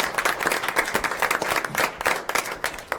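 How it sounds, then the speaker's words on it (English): Audience applause at a school board meeting: a short burst of steady hand clapping from a room of people, moderately loud, with no talk over it. "Well-deserved round of applause."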